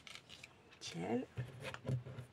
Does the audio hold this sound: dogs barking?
no